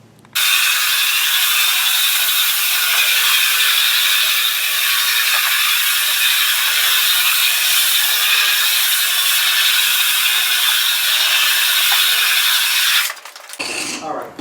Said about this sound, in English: we're going to come in with a very, very fine sandpaper, and we're going to sand it real quick